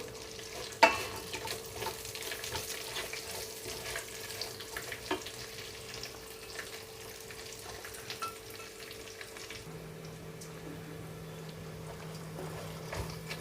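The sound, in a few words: sliced onions frying and sizzling in a pan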